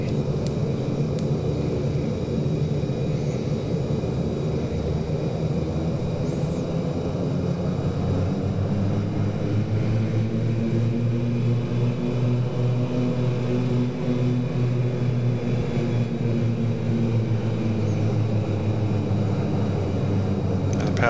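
Twin turboprop engines of a Super King Air B200 in a flight simulator drone steadily and loudly while taxiing, their pitch rising and swelling as power comes up for a climb up a slope.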